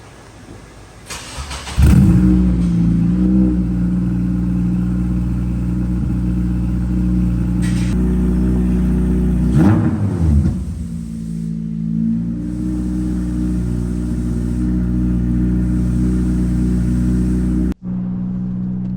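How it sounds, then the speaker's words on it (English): Honda Civic Si with about 300,000 miles, running a straight-piped 3-inch exhaust with only a resonator, starts and settles into a loud, raspy idle. It rises with a couple of blips and revs before dropping back to a steady drone. "I didn't put the muffler on just because I wanted to see how it sounded like fully straight piped."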